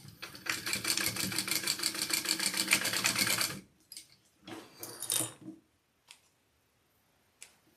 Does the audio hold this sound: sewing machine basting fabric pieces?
yes